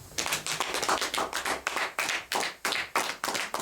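A church congregation claps in acclaim of Jesus, a dense run of loud hand claps swelling and falling in rhythmic bursts roughly every third of a second.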